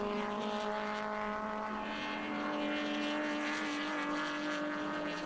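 A vintage BMW sedan chases an Alfa Romeo in a Group 8 sedan race, both engines droning at high revs in a sustained, steady mechanical whine that rises and falls slightly as the cars pass.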